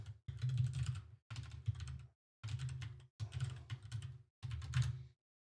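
Live typing on a computer keyboard comes in five quick bursts of close, crisp key clicks separated by short silences.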